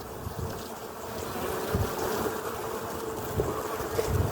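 A steady, close hum of many honeybees buzzing together at a hive, with a few louder passes near the microphone and a light breeze.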